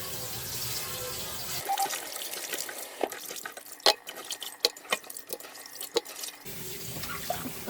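Duck pieces rinsed under a running kitchen tap, water splashing and dripping into a sink, with several sharp knocks and clatters as pieces are handled, close and fairly loud.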